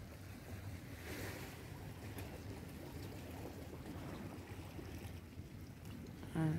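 Ocean waves wash steadily along a Jamaican shore, a continuous broadband surf roar with gusts of wind buffeting the microphone, fairly loud and unbroken, with no one speaking.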